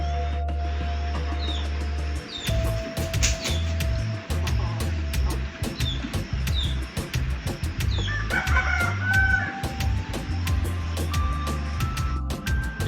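Hens clucking and a rooster crowing in a busy farmyard, with steady low rumble underneath and overlapping bird calls throughout.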